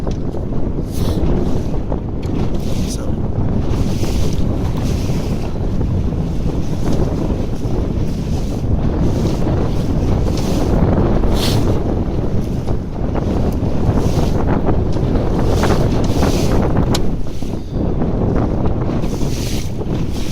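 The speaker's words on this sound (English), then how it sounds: "bit of breeze coming on now" Strong wind buffets the microphone with steady roaring gusts while water splashes around a sailing dinghy, loud and continuous.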